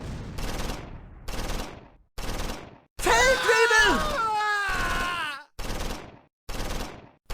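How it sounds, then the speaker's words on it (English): Harassing fire against German infantry in the WWII strategy game Close Combat 4, Battle of the Bulge at Dasburg: repeated short gunfire bursts in a steady rhythm, with a long stretch of wavering shouts and cries in the middle. "The intention behind this harassing fire is to force the German infantry to go to ground"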